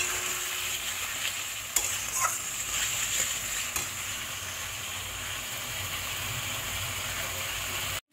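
Tangra fish curry with tomato, Kashmiri red chilli powder and a pinch of sugar is stirred in a sizzling pan, a steady close frying hiss broken by a few sharp scrapes and clicks of the spoon.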